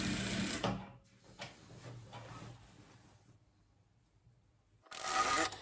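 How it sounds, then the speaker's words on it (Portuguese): A sewing machine stitches along the edge of a super king quilt in two loud close bursts of rapid mechanical whirring, with a quieter pause between them. "Aí venho colocando, passando aqui uma costura de um lado e uma costura do outro, né? Põe ela aqui bem no meio. E vem costurando aqui na beiradinha."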